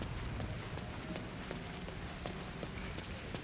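Steady rain falls in the video game Baldur's Gate 3, a dense, even patter with faint clip-clop-like taps scattered through it and no voices.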